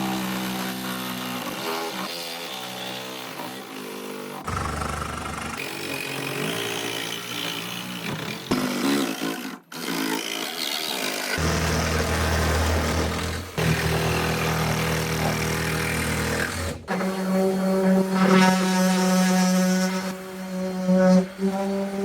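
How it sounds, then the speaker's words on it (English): A jigsaw cuts a shape out of a panel for a DIY litter-box house, a loud, buzzing saw that runs steadily for long stretches with brief pauses and changes in pitch as it moves through the material, with no talking. "and then I'm going to use a jigsaw to cut out the shape"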